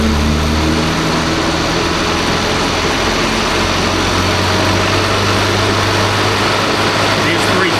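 A 998cc Mini engine running loud and close, its steady drone shifting in pitch as revs climb, with someone talking over it.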